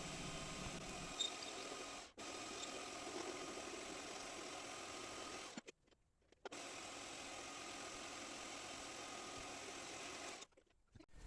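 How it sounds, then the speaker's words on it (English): A lathe hums steadily while rounding over the back of a steel longsword pommel nut, a faint continuous whir that drops out twice briefly. "I've just stuck it back in the lathe, and we're going to round over the back so it looks all pretty"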